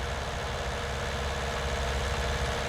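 A tractor engine idles in Farming Simulator 19, a steady low rumble with a constant mechanical hum and no change in pace.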